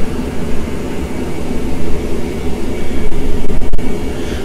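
An Airbus jet engine in a flight simulator game roars as a broad, loud rumble that swells and surges toward the end, with no voices over it.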